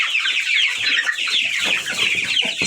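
Hens cluck steadily in a backyard coop where chickens are raising chicks, several birds calling close by in a continuous busy chatter with no talk.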